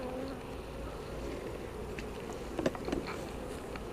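Honeybees hum in a steady, close drone while a hive is split, with faint scattered taps and brushing sounds over the constant buzz.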